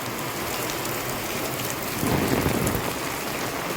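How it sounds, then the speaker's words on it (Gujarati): Heavy rain pours steadily near a temple as a dense, continuous hiss that swells louder for a moment midway, with no voices. "આ વરસાદ"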